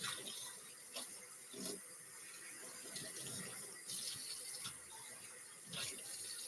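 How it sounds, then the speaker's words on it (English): Hot tap water runs and splashes while a mayonnaise container is rinsed out in a kitchen sink, a steady quiet flow with a few brief louder splashes. "So I'm just rinsing out my mayonnaise."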